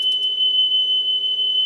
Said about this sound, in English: so we can see the whole sine wave